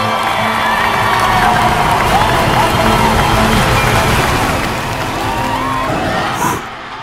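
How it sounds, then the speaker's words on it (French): A large concert crowd at a student music festival roars and cheers in a dense, continuous wall of noise that stays loud throughout, easing slightly near the end. "On entend déjà la foule vibrer"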